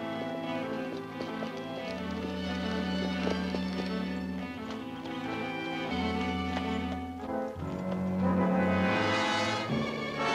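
A riderless horse gallops in a colorized 1951 western, its rapid hoofbeats clip-clopping under a loud orchestral score that stays prominent throughout.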